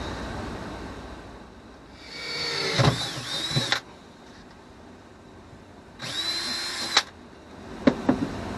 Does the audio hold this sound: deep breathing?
no